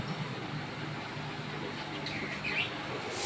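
Pet birds chirp in a pigeon shop in Kolaghat, West Bengal, with thin scattered tweets over a steady noisy background hum. A few brighter calls come near the end.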